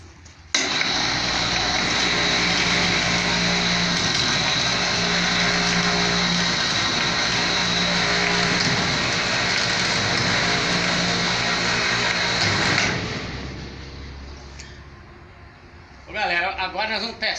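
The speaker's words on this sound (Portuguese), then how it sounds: "Primeiro peso que o guincho suspende." A winch mounted on a ceiling beam hoists a first load of old house timber, giving a loud, steady mechanical drone that runs unbroken for about twelve seconds before cutting off, followed by a short burst of clattering.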